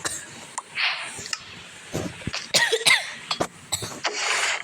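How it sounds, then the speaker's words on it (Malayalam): Several coughs and throat-clearing bursts from a person with a mild fever, close and fairly loud, spread irregularly over a few seconds with faint background clinks between them. "ചുമക്കൊക്കെ ക്ഷമിക്കണമെങ്കിൽ ചെറിയൊരു പനിയാണ്."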